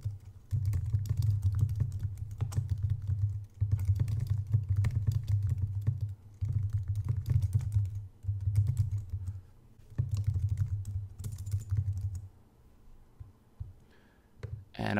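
Steady typing on a computer keyboard while building a contact page for an ecommerce website, with bursts of rapid close key clicks separated by short pauses, no talking.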